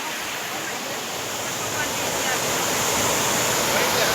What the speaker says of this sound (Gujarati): ધોધ પડે છે